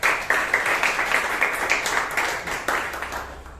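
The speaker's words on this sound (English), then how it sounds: "please give a big round of applause" An audience at a Toastmasters meeting in Bangalore claps, a brief burst of fairly close, moderately loud applause that rises quickly and slowly thins out over a few seconds.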